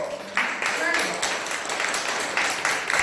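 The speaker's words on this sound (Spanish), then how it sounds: "Entonces denle un aplauso al Señor." A church congregation applauds the Lord, scattered clapping rising in uneven bursts beneath a voice speaking over it.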